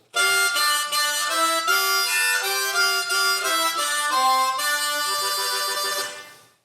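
Diatonic harmonica chords played with tongue technique in a steady run of sustained, rich tones that shift every half second or so, close and loud, ending with a fade.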